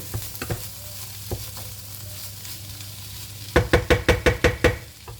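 Minced meat and tomato mixture being stirred in a pot, a low sizzle under sparse spoon knocks, then a quick run of about seven even, sharp scraping strokes against the pot, close and without speech.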